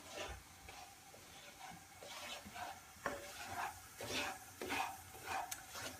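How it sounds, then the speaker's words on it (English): Sofrito being stirred and sautéed in a pan, with a soft steady sizzle under repeated scraping and stirring strokes of a utensil against the pan, close and moderately quiet. "So keep mixing and sauteing."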